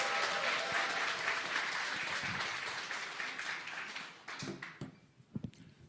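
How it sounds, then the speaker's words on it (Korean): Audience applause welcoming a speaker at a church forum festival, a full sustained round of clapping that fades over several seconds to a few scattered claps at the end. "예, 박수로 환영하겠습니다."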